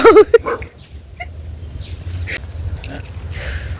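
A dog vocalizes briefly at the start, sharp and close, followed by steady low rumbling background noise and a few faint high chirps.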